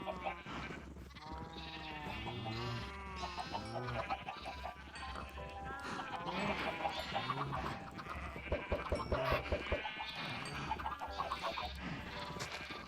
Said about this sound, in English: for those sheep